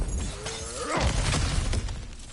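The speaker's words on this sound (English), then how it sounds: "back to smashing through things for fun and profit" Something breaks apart in the video game God of War, a sharp shattering crash with debris scattering and rattling for a moment afterward, loud and close.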